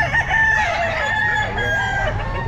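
A rooster crows repeatedly at a damp, drizzly outdoor pet market, its drawn-out calls loud and close over a steady crowd murmur, with other fowl clucking faintly around it.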